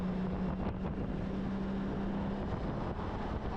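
A Honda Goldwing GL1800 motorcycle running in tour mode with a Stage 1+ ECU flash: a steady low engine drone with a constant hum, mixed with wind rush, loud and continuous.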